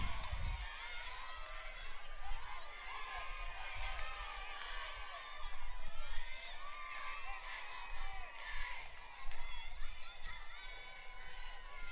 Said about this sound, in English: Love to hear the Bear bench cheering Zoe on